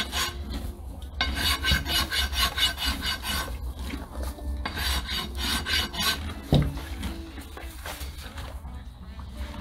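A rasp is drawn repeatedly across a horse's hoof in rhythmic, gritty close strokes, with a voice speaking over the steady filing.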